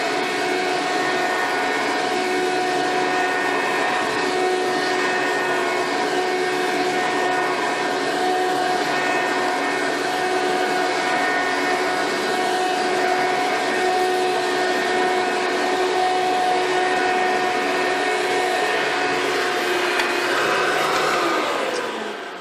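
A Hoover Preferred or Dyson DC14 vacuum cleaner runs at full power, a loud steady whining roar with a tonal hum that holds unbroken throughout and dies down at the very end, with no voices.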